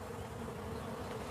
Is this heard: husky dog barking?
no